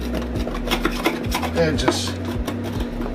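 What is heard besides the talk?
spoon scraping dried urates out of a reptile tub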